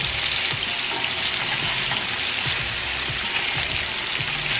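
Paprika chicken pieces fry in a pan after being flipped, a loud, dense, continuous sizzle with crackling spatter close up, alone without voices.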